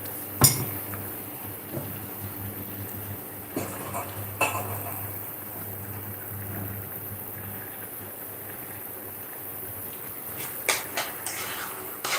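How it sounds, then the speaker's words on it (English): Rice being stirred in a pot gives sporadic spoon clinks and scrapes against metal over a low kitchen hum, close and quiet, with no voices. "Let me stir the rice."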